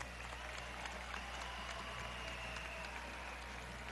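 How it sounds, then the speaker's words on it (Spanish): A crowd claps at a PSUV party rally in Delta Amacuro, heard as a dense, moderately distant wash of applause over a constant low hum, with no clear speech. "Pido para ellos un fuerte aplauso."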